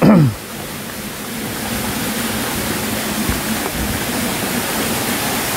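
A waterfall pouring over a cave beneath the falling water makes a loud, steady, close roar of rushing water that continues throughout, after a brief knock at the start.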